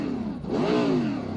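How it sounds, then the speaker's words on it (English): A Mercedes GT3 race car in iRacing revs hard at Laguna Seca (Mazda Raceway), its engine note climbing and falling in one loud, close sweep with no talk over it. "I love the engine sound. I like it better than the Audi sound."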